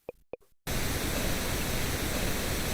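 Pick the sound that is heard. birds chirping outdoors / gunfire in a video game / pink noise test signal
pink noise test signal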